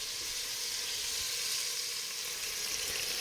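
Beef chunks sear in a hot pan for beef bourguignon, giving a steady, loud, close sizzle that holds even throughout with no talking.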